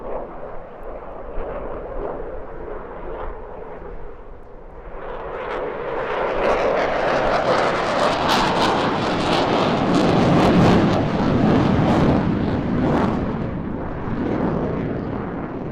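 A Eurofighter jet with two EJ200 turbofan engines passes at an airshow, a broad roar that builds from a distant rumble into a loud, sustained thunder and holds at full volume.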